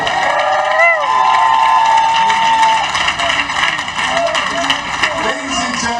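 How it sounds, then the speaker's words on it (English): An outdoor crowd at the Bronx groundbreaking of the Universal Hip Hop Museum claps and cheers loudly and steadily, with whoops and voices calling out mixed into the noise. "Come on, let's give them all a strong round of applause."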